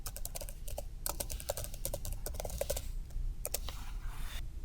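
Keys clatter on a computer keyboard while a label is typed into a form field, giving quick irregular clicks in short bursts, close and moderately quiet over faint background hum.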